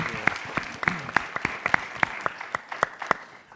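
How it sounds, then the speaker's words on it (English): An audience claps for a speaker at a summit, with sharp, dense hand claps close by, steady at first and thinning toward the end. "Let's give Tom a round of applause"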